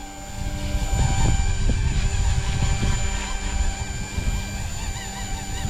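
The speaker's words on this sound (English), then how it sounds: "This is a smaller heli, so get a nice hover going for you guys there." Small XK K130 RC helicopter hovering close by, giving a steady high-pitched rotor and motor whine with rhythmic blade flutter underneath.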